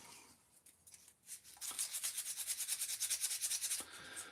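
Abrasive rubbed over a small wood carving by hand, a quiet close scratchy swishing in quick regular strokes that starts faint and grows steadier, with no talking.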